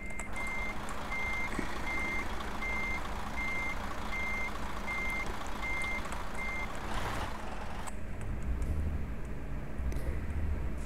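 A truck's reversing alarm beeps in an even, regular series of about a dozen tones over a steady engine rumble in Euro Truck Simulator 2, then stops, followed by a hiss of air and a low thud.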